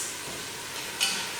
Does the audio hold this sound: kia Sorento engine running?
no